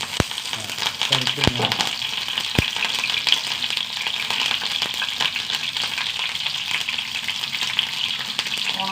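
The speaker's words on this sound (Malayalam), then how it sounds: "വെളിച്ചെണ്ണ ഒഴിച്ച് കൊടുത്തിട്ട് ഒന്ന് വറുത്തെടുക്കട്ടെ രണ്ട് കറിവേപ്പില" Curry leaves fry in hot coconut oil, a continuous close sizzle and crackle with a few sharp clicks near the start, running under intermittent talking.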